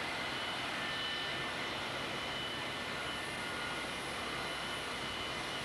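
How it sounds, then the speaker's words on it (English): Six jet engines of an XB-70 Valkyrie bomber roar in a steady, dense, unbroken rush that stays loud and even throughout, with no voices. "a phenomenally powerful combination of 6 mighty jet engines"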